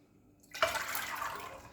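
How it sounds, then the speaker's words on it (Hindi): Water is poured straight into a pressure cooker holding soaked chickpeas, a close splashing rush that starts abruptly and keeps flowing steadily to the end. "मैं वो पानी को डायरेक्ट इसमें डाल रही हूँ"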